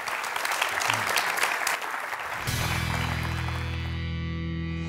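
Loud clapping from a studio audience on a Georgian medical talk show fills the first half and then gives way to music.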